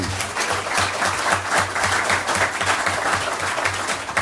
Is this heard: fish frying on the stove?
no